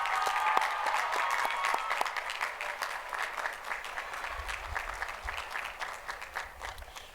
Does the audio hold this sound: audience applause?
yes